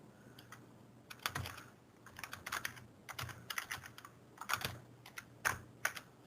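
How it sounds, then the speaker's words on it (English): Typing on a computer keyboard in bursts of quick clicking keystrokes with short pauses between, close and moderately quiet, over a faint steady background hum. "Let me type it in."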